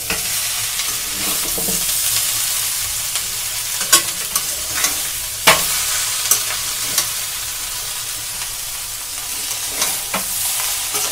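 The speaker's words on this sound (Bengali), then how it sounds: "এবার ভালো করে মিশিয়ে নিতে হবে আলু এবং ফুলকপি।" Potatoes and cauliflower being stirred together in a pan for a vegetarian cauliflower dish, a steady scraping stir over a continuous sizzle, with a few sharper utensil knocks against the pan.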